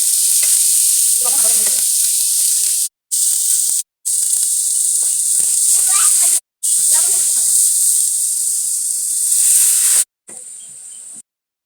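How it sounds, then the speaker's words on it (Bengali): Loud, continuous sizzling of green chilies frying in hot oil, a bright hiss with brief crackles, cut by a few short silences. "কাঁচামরিচগুলো ভাজে নিব"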